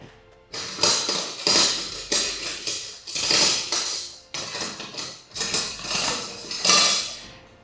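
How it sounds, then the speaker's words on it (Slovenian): A fork beats an egg into flour in a bowl, making the crumbly dough for soup dumplings, heard as bursts of rapid close scraping and clinking against the bowl with short pauses between them, no talk. "in nato z vilicami razmešam jajce"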